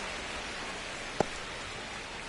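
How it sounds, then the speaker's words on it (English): Steady rain falls during a baseball game in MLB The Show 25, a soft, even hiss that fills the background, with a single sharp click near the middle. "It feels like we might be headed towards a rain delay if the weather doesn't ease up, Chris."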